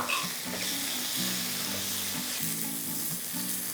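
Chopped okra, onion and tomato sauté in a hot pan for a vegetarian Tamil lunch, giving a steady, loud sizzle and hiss with soft stirring scrapes throughout; a low hum sits underneath and no one talks.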